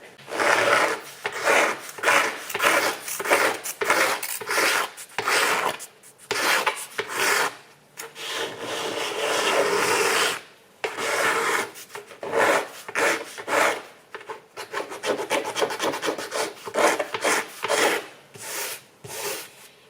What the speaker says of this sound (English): use a strip of sandpaper and hand sand this bit at the back